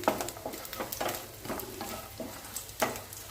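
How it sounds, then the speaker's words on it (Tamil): Soft, quiet sizzling of Kalathappam batter frying in a pan, with gentle crackles and occasional stirring scrapes. "இப்போ இது வறுபடட்டும் பார்க்கலாம்"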